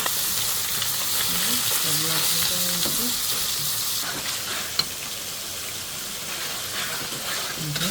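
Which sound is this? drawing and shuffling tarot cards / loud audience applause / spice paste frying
spice paste frying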